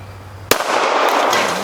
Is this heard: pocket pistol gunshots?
yes